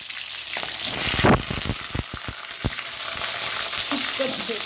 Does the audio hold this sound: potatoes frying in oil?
yes